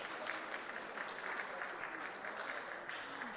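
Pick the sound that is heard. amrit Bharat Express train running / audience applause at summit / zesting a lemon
audience applause at summit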